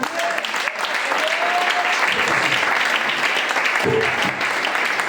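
A church congregation applauding during a Pentecost sermon, sustained dense clapping filling the room from start to finish, with a faint voice beneath.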